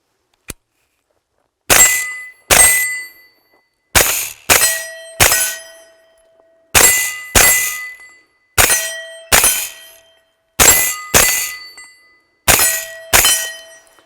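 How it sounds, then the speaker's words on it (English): A suppressed 9mm CMMG Banshee fires subsonic 147gr plated rounds at steel targets outdoors, about a dozen quiet pops each followed by a sharp ringing clang, coming in paired bursts separated by short pauses. "I can actually do this without hearing protection because this suppressed 9mm load is so quiet."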